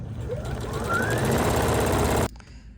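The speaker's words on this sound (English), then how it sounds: "now I'm going to come around and I'm going to stitch again using my presser foot right up against the stitch that I just stitched" A sewing machine runs steadily, top stitching a fabric bucket hat with the presser foot, a loud continuous motor whir and needle clatter that stops abruptly near the end.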